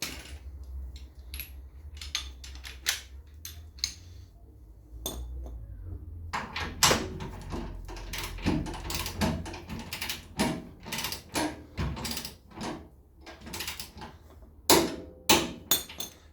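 Socket wrench turning a bolt on a Land Rover suspension shackle, giving sharp metallic clicks and clanks in irregular bursts, close and fairly loud, with no talking.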